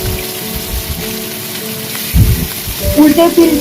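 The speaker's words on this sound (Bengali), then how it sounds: "এবারে অপোজিট সাইডটা আমি আস্তে আস্তে ভেজে নিচ্ছি" Bhola fish fry gently in a frying pan as they are turned, with a steady crackling sizzle, some louder spattering bursts toward the end, and faint talk.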